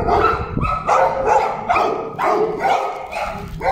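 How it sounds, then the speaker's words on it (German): Several dogs bark back and forth close by as a stray dog meets a pet dog outdoors in Paraguay, with loud, repeated bursts of barking and yips throughout. "Jetzt kommt hier ein Straßenhund."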